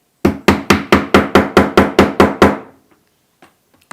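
Eleven quick, evenly spaced hammer blows set a small rivet on a fabric bag, each a sharp, close knock. A few faint taps and handling noises follow in near quiet.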